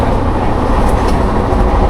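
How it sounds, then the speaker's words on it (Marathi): Steady, loud rumble and clatter of a moving train, continuous throughout with no voices. "लय हालते हो ट्रेन, लय हालते"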